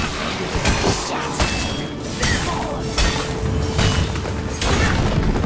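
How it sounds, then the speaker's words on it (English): Heavy crashing booms and thuds from walls being smashed in the video game Heroes of the Storm, several impacts spread through the stretch amid clattering game effects and whooshes. "Walls destroyed!"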